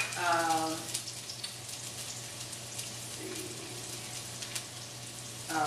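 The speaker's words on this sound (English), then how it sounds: "We're going to add to it a third of a cup of the onions, diced onions." Diced onions sizzle in a hot pan while chicken with artichokes is being cooked, giving a steady, close crackling hiss with faint pops that holds throughout.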